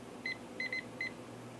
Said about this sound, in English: we're going to set our timer for 4 minutes